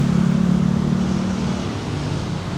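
Steady road traffic noise in Jakarta, a dense continuous rumble of engines that stays loud and unbroken throughout, with no talk over it.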